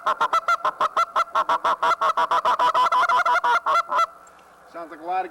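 A hand-blown goose call imitates a flock of geese with a rapid series of about two dozen loud, close honks in steady rhythm, followed by a pause and a single softer, drawn-out note.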